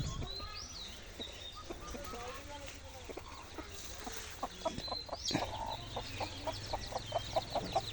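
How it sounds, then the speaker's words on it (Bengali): Chickens cluck around a small vegetable plot beside a pond, with scattered calls at first, then a run of short, evenly spaced clucks building toward the end, at moderate distance over faint background. "মুরগি ঢুকছে আবার এখানে"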